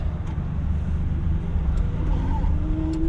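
A Daihatsu Midget 2 microtruck pulls away in drive with a low, steady engine drone heard from inside the cab, a faint rising whine near the end.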